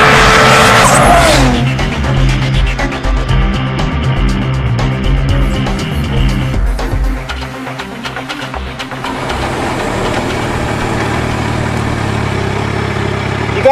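A turbocharged car running a 74mm turbo, 1000 cc fuel injectors and 264 cam springs roars loudly and steadily up close, the engine note easing into a lower, rougher idle in the second half, with no talk.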